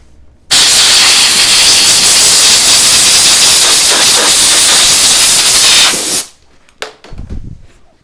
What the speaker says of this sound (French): un petit coup de soufflette